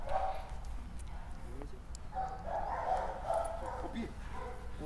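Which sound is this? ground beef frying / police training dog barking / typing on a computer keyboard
police training dog barking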